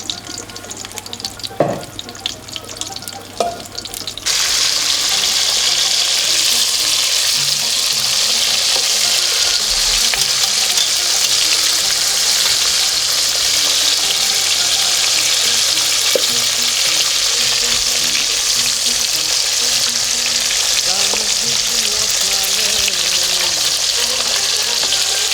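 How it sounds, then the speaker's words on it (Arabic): Slit stuffed peppers being fried in hot oil, a loud, dense sizzle that breaks into a steady roar after a few seconds of clatter and continues unbroken, close up. "Les piments que j'ai farcis devant toi tout à l'heure, je vais les frire et les sortir."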